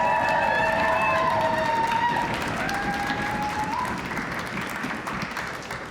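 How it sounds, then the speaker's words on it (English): Crowd applause for a dance group at a tribal gathering, dense and steady throughout, with whistles or tonal calls sliding over the clapping early on, fading slightly toward the end. "Can we give them another round of applause?"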